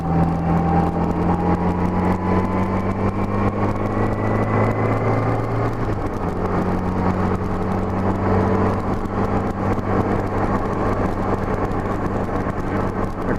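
A Honda GL1200 motorcycle engine with a rebuilt carburetor kit pulls steadily in fourth gear from low revs, a loud continuous drone rising smoothly in pitch, with a brief gearing shift midway and wind noise throughout.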